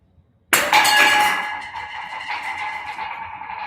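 Glass smashes loudly and close in an indoor studio. A sudden crash bursts into a long, bright shower of shattering and tinkling shards that slowly fades as the pieces settle.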